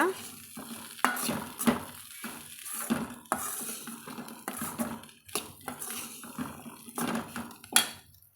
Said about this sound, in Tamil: சேர்த்துட்டு கலந்து விட்டுக்கலாங்க